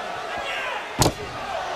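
A single sharp, loud whack of a kendo stick striking a wrestler at a WCW Nitro wrestling match, standing out over a steady crowd roar.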